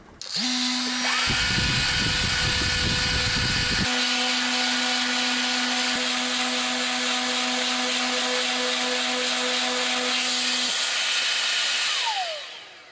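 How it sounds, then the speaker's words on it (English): A power sander works on the top surface of a Tom Evans Mastergroove SR mkI pre-amp with a loud, steady high whine. A rougher grinding burst sounds early on, then the motor spins down at the end. "I'm going to have to sort of sand all this back and repolish it."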